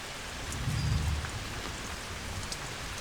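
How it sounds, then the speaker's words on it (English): Rain pattering steadily outdoors during a hike in a thunderstorm, with a low rumble of thunder swelling briefly near the start and fading under the constant hiss of rainfall. "I so hope you can hear that thunder."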